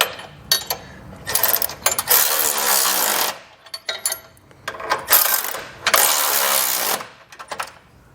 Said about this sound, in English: We'll then switch out to a 15/16 size socket and wrench